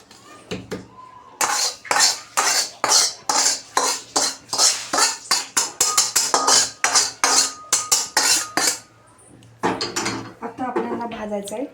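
Roasted coconut is scraped from a pan onto a plate, a rhythmic series of loud metallic scrapes and clinks repeating about twice a second up close, followed by a brief pause and a soft voice at the end.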